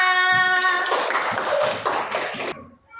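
Schoolchildren in a classroom burst into a short round of applause. A brief tonal sound comes first, then dense clapping for about two seconds before it cuts off abruptly.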